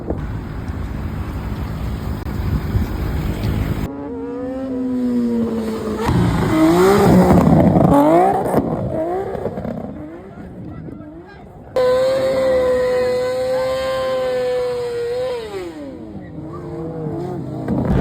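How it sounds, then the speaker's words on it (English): Cars at a car meet drive past and rev their engines, loud revs rising and falling in several bursts with abrupt cuts between scenes, close by, with crowd noise and voices in the background. "Went to a car meet and there were some really nice cars."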